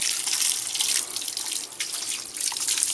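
Water poured over a dog, a close, steady splashing gush with a bright hiss that wavers slightly in strength for a few seconds, with no voices.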